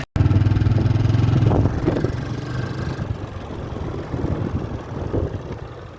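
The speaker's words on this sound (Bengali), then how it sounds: "এই বাইকে করে এখন আমরা যাবো মামার গ্রিন হাউসে।" A motorcycle carries riders slowly along a road to a farmhouse greenhouse in Kuwait, its engine a steady, close mid-pitched drone that is loudest at the start and then settles to an even hum.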